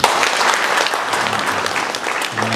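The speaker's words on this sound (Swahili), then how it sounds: "Wapigie makofi." Wedding guests break into applause right after the vows, a dense burst of clapping from a crowd that holds steady for a couple of seconds.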